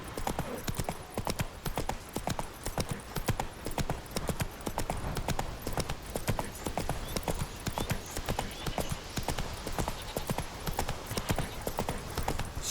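Roach the horse gallops in The Witcher 3, rapid rhythmic hoofbeats pounding steadily and close for the whole stretch, with faint background ambience.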